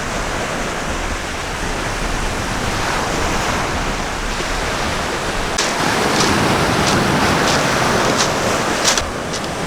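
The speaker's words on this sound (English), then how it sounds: "the ocean over here on the sand" Waves on the Lake Michigan shore at Point Beach: a loud, continuous wash of surf with wind noise buffeting the microphone, and a few faint crackling splashes toward the end.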